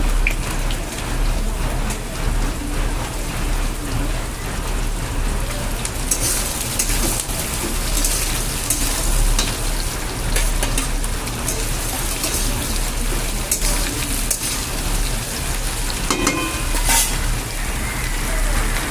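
Vegetables and green chilies fry in a pan with nigella seeds, giving a loud, dense, rain-like sizzle that runs steadily with a few sharper crackles and stirring sounds.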